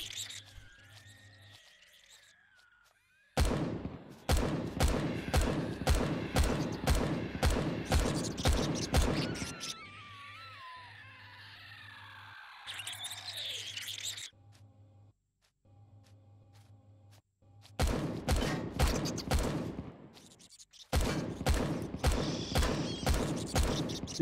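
Rapid bursts of weapon fire from automated defences in the Empyrion space survival game, loud and rhythmic, come in long repeated volleys separated by quieter gaps of mechanical hum and creature noises.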